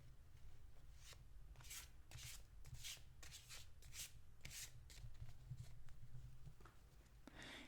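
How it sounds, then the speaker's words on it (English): Tarot cards shuffled close up in a quiet room, a run of soft papery riffles and rubbing swishes in irregular bursts over a low steady hum, with no talking. "So I'm just going to shuffle the cards a little bit."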